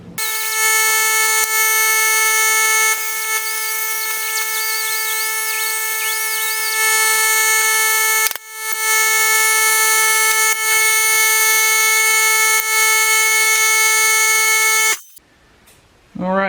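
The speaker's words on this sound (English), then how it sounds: "I'm going to cut it with the cutoff wheel" A cutoff wheel slices through a stubborn sway bar end link on a Dodge Grand Caravan, holding a loud, steady, piercing high whine with brief dips and restarts before spinning down near the end.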